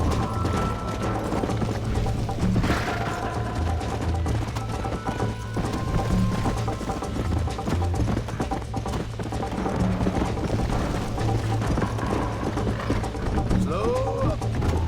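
Horse hooves clop steadily in the video game Red Dead Redemption amid busy game background noise and rumble, continuous throughout without pause.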